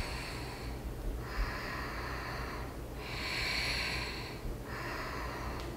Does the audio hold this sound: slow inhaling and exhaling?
yes